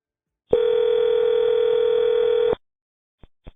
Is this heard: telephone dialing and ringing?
yes